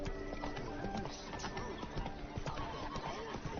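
Hooves of the horse Roach clip-clopping at a gallop in The Witcher 3: Blood and Wine, a steady rhythmic pounding under game ambience.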